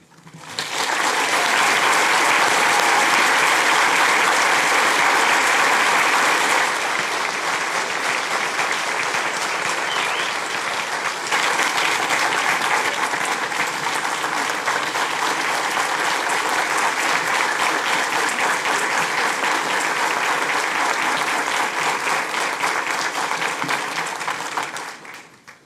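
Audience applause at a University of Akureyri graduation ceremony: loud, sustained clapping from a large crowd that continues evenly for around 25 seconds, with a brief dip partway through, before stopping abruptly.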